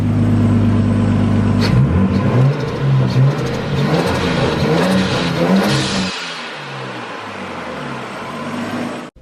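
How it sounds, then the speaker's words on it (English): A Nissan Skyline RB20DET with a Go Fast Bits Respons blow-off valve revs hard close by, its engine climbing and falling for several seconds before a sharp release as the throttle drops, then settles to a low idle. "the Go Fast Bits Respons blow-off valve for the RB20 DET. This thing sounds amazing."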